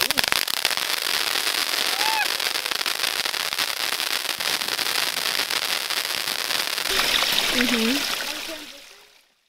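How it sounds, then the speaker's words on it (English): Ball rocket fireworks crackle and fizz in a dense, continuous shower of sparkling pops, with voices faintly audible, before the sound fades out at the end. "ball rockets are really nice"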